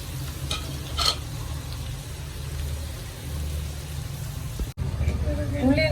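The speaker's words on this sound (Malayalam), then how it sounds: "ഉള്ളി നന്നായിട്ടൊന്ന് വറുത്തെടുക്കണം" Three onions frying in about a quarter cup of oil for garlic chicken, stirred in the pan, give a steady broadband sizzle with a few scraping clatters; a voice joins near the end.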